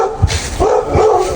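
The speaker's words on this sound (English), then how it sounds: "Oh, now you bark at me?" A puppy indoors at a house gives a few short, close barks in quick succession, with a little whimpering between them and no talking over it.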